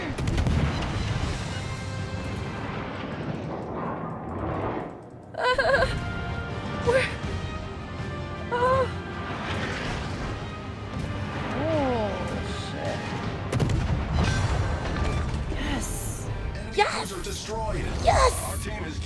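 Heavy naval gunfire in World of Warships, with repeated booming salvos and crashing impacts at irregular intervals, loud and close, while a person talks excitedly over the battle.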